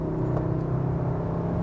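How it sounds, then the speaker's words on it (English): The 310 hp engine of an all-wheel-drive Cupra Formentor crossover gives a steady whirring turbo whine over a low engine drone while driving, with no talk. "You hear that turbo whine."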